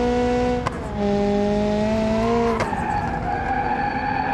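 Loud, sustained tire squeal from a car in the racing game BeamNG.drive, the pitch sliding and wavering as the wheels spin and skid, with engine roar underneath.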